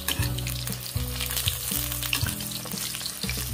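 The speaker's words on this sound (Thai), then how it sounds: "ต้องทอดมะเขือก่อนนะคะ" Eggplant pieces frying in hot oil in a home kitchen, a steady dense sizzle and crackle with faint stirring bumps, close and continuous throughout.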